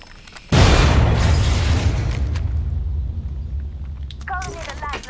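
A loud explosion blasts open a hole during an Apex Legends match, a sudden boom followed by a long rumbling decay, with a voice speaking briefly near the end.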